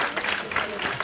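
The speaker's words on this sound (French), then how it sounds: "vous pouvez applaudir" A brief burst of audience applause at a French round-table discussion, a dense patter of many hands lasting about a second.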